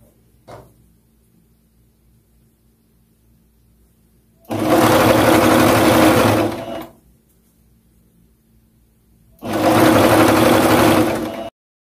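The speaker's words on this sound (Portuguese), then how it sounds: "E vamos passar uma costura reta aqui, prendendo esse viés." A sewing machine runs a straight seam to attach bias binding around the neckline of a gathered dress, in two steady whirring bursts of about two seconds each, separated by quiet, with a small click at the start.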